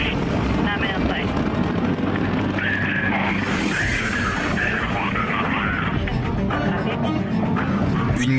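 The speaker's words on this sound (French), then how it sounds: "Puis des tonnes de carburant s'enflamment dans les moteurs du Soyouz." Soyuz rocket engines roar during the first seconds of ascent, a loud sustained rumbling thrust with shifting, crackling texture that stays strong and unbroken.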